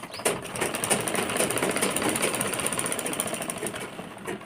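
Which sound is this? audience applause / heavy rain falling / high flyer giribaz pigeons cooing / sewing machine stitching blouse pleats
sewing machine stitching blouse pleats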